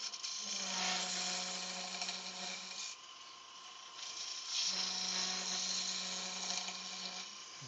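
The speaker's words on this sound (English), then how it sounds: "doing a pull cut from the centre out so that he's actually going with the grain" Wood lathe making a pull cut from the centre outward along the grain on a spindle-turned yew piece, a steady broadband cutting hiss over a low motor hum, in two sustained passes with a short pause between.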